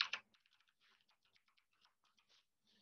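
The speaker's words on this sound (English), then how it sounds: "I'm going to go ahead here and type in the password." Keys tapped on a computer keyboard while a password is entered at a portal login, a short burst of close, quiet clicks with two louder strokes at the start, then scattered light taps with small gaps.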